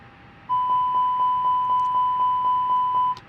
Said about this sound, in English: We'll do a fire alarm test on the APU.